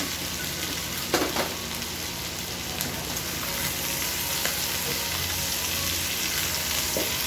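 Pork adobo meat frying with garlic in a pan, a steady close sizzle running throughout with a few brief clinks and pops, no voices.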